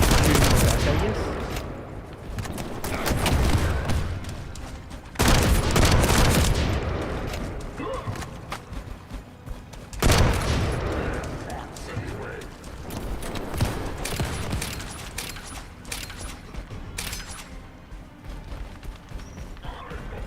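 Repeated bursts of heavy gunfire in a shooter game against a shield-bearing enemy, loud rattling volleys separated by brief pauses, with a voice speaking over parts of the action.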